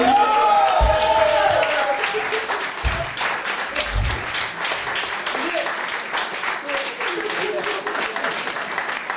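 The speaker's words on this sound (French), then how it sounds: "On les applaudit bien fort." Wedding guests applaud loudly and steadily throughout, a continuous crowd clapping with a few voices calling out early on.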